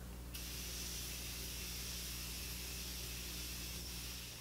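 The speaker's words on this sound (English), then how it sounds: "It says hold it 8 to 10 inches away from your face and then spray all over." Makeup setting spray is released from an aerosol can onto a face as one long continuous hissing burst, close and steady, with no talking.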